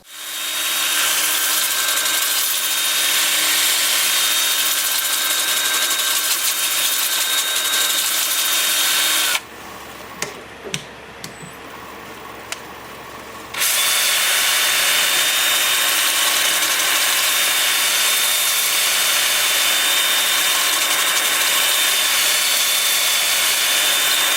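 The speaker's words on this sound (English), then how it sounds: "I have the lathe spinning at 350 RPM, alternating between forward and reverse" Steady hissing abrasive whir of sanding against live oak wood spinning on a lathe at 350 RPM, continuous and close, pausing briefly in the middle before resuming.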